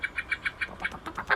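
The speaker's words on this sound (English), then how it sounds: "That's all blackbirds." Blackbird song, a series of repeated clear whistled phrases at a steady, even rhythm, moderately close with no voices over it.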